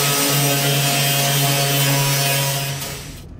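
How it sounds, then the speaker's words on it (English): Sanding down a scraping edge on an emergency roof hatch of a school bus being converted to a tiny home; a loud, steady power-sander whir runs close up for about three seconds and then tapers off at the end. "Let me sand that off."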